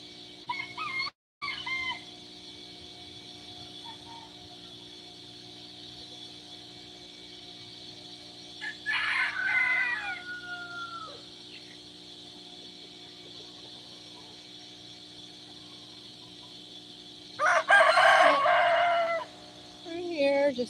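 Young pullets cluck and crow in two brief bursts around the middle and end, over a steady low hum and faint background noise.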